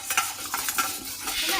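Roasted gram dal dry-roasting in a pan while being stirred, giving a close, steady scraping rattle of crisp lentils against metal with soft crackle. No voices.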